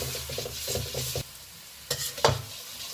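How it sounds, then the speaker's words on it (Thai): Palm sugar simmering thickly in a pot is stirred in close, rhythmic scraping strokes that stop briefly and return with a couple of louder scrapes over a low bubbling sizzle. "แล้วเราก็เอาน้ำตาลปี๊บนะคะ เข้าไปคนค่ะ เราจะเคี่ยวเขาให้เหนียว"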